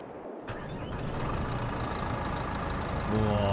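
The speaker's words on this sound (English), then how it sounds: "Oh, listen to the growl of that engine." A vehicle engine in Farming Simulator 22, the 250, growls as a loud, steady rumble that holds throughout and swells slightly near the end, with no talking over it.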